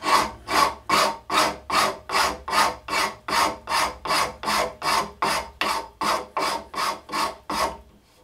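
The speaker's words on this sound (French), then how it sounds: "Je vais diminuer l'aspect de surface avec la piqûre fine." Shinto saw-rasp working a piece of wood with its fine-toothed side, about twenty even rhythmic scraping strokes, close and loud, with no voices.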